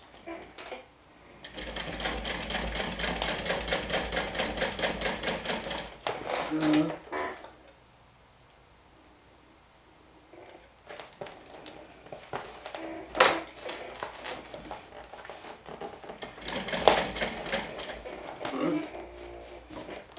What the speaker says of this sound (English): let me increase my stitch.